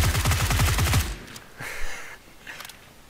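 UMP submachine gun firing in PUBG, a rapid burst of about a dozen close shots lasting roughly a second, followed by quieter clinks and rustling.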